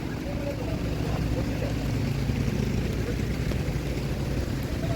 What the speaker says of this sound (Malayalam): ഇതാണ് ഗൈസ് നമ്മൾ വന്ന ബോട്ട്.